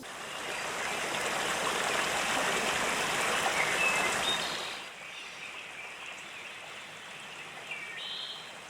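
Swollen river running high during a homesteading class's fish-stocking trip, a loud broad rush of flowing water that fills the first half, then drops to a softer, more distant stream.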